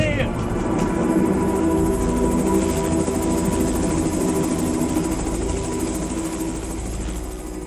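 A film crew's helicopter thrums loudly and continuously as it comes in to land inside a volcano, its steady rotor and engine roar filling the whole stretch, with a voice talking over it.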